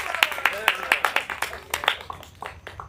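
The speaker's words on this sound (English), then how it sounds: "Give yourselves a round of applause." Classroom students clap in a steady round of applause after a storytelling showcase, a quick run of sharp close claps that gradually thins out over a few seconds.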